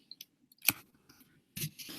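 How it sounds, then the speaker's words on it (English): Keys on a computer keyboard clack in short irregular bursts while a web address is typed, with brief pauses between clusters of presses. "I'm going to type in hstry.co."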